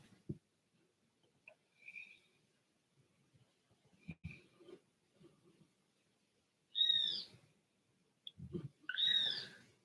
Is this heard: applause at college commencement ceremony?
no